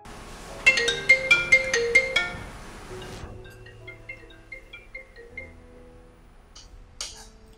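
A phone ringtone sounds during an outgoing call, a bright chiming melody of repeated tones that plays loudly for a few seconds, then gives way to a softer, quieter run of notes with a brief click near the end.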